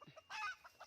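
A chicken clucks softly a few times, with a brief louder squawk in the middle, faint and close in a quiet setting.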